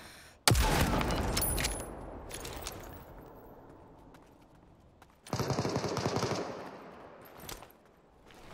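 Bursts of automatic gunfire in the battle royale game Super People: a loud, dense volley, a lull of quieter rattling, then a second sustained burst and a few trailing shots.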